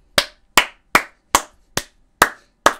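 Seven single sharp claps in a steady rhythm about every 0.4 seconds, close and crisp with no voices.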